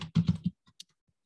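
A short run of keystrokes on a computer keyboard while an address is entered, a quick cluster of clicks followed by a few sparse taps, close and fairly quiet.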